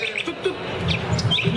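Birds in a forest chirping, with several short, high tweets scattered over quiet background rustle and low murmuring.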